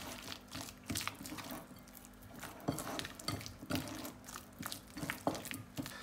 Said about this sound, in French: Moi, je vais mettre un peu d'eau.